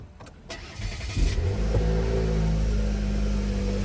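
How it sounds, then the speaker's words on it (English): A car engine cranks for about a second with a starter whir, catches, and settles into a steady, close idle hum. "I'm gonna start the car now."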